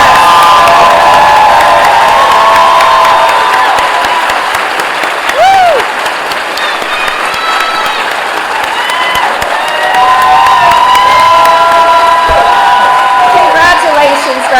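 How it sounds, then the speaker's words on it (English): Large audience at a UT Arlington BSN nursing pinning ceremony applauding and cheering loudly, with whoops and shouts over continuous clapping that holds steady throughout. "Let's give a final round of applause to our Summer 2025 UT Arlington BSN Nursing"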